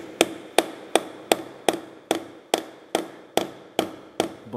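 Hammer tapping a workpiece to adjust its position on a machine, eleven sharp metallic knocks at an even, steady rhythm, each ringing briefly, close and alone.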